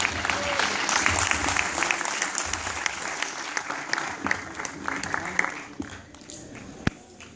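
A convention crowd at a Star Wars fan event applauds a Jedi cosplayer, a dense, steady roar of many hands clapping that fades slightly toward the end, with voices faintly mixed in.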